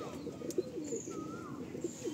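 Several pigeons in a full loft coo steadily, low rolling calls repeating close by, with a few faint chirps and no talking.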